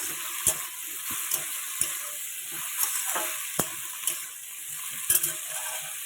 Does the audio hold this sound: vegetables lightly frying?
yes